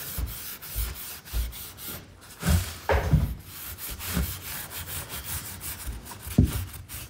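Wax being wiped back by hand across a thrifted home decor piece, a series of soft rubbing strokes that rise and fall in uneven bursts, close up with no talking.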